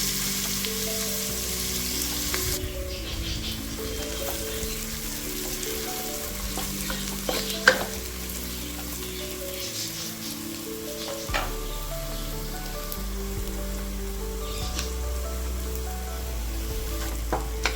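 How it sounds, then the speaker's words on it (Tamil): Onions frying in hot oil until golden brown for chicken biryani, a continuous close sizzle with occasional stirring scrapes and small pops, heard alone without talk. "இது நல்லா இப்போ கோல்டன் ப்ரௌனாக வதங்கட்டும்."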